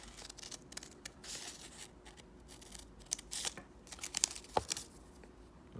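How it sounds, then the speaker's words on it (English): Scissors snip through paper while cutting out a letter J, a series of crisp, close cuts with light paper crinkling, fairly quiet and spread irregularly across the moment with no talking. "Cut out the letter J."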